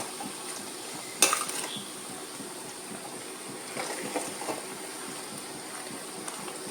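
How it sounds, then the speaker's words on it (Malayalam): Homemade banana chips with turmeric are stirred while frying in a pan, giving a steady hiss of hot oil with a sharp metallic scrape near the start and a few softer scraping stirs later, close by and without talk. "നമ്മൾ ഇളക്കിയിട്ട് തിരിച്ചും ഇങ്ങനെ ഇളക്കി നമുക്ക് മൂപ്പിച്ചെടുക്കാം"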